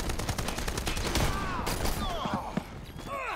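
Sustained machine-gun fire from a turret in a team shooter game, dense rapid bursts layered with other gunfire and zipping effects, continuous and loud throughout, with voices faintly underneath.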